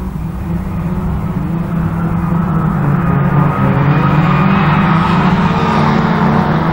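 Several autograss race cars in a ladies' class final at St Neots roar into the first corner together, a loud, steady wall of engine drone that swells slightly as the pack passes close by.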